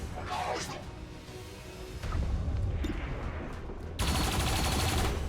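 Sniper fire in the video game XCOM 2 during an Avenger Defense mission: sharp gunshots and booming impacts in loud bursts, with a heavy, sustained blast of noise in the final second.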